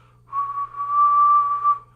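A person whistles one steady, clear note through puckered lips, held for about a second and a half, close and fairly loud with no talking, while showing the lip shape used for playing the bassoon.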